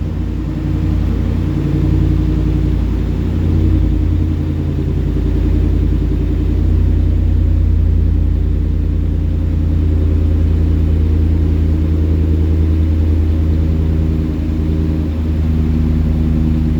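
A Jeep Commander's 5.7 Hemi V8 runs with a steady, loud, deep rumble while the gas is pressed, holding a fairly even revving drone throughout with no voices.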